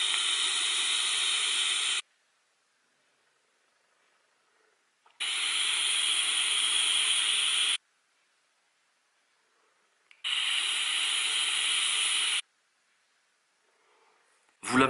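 An Eleaf iJust One e-cigarette kit vaping a high-VG liquid: three separate draws of steady airy hissing, each lasting about two and a half seconds, with near-silent pauses between them.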